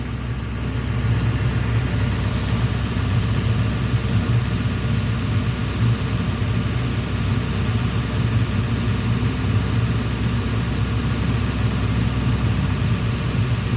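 A truck engine held at raised, steady revs to rebuild air brake pressure, a constant loud low drone with no change in pitch and no voices.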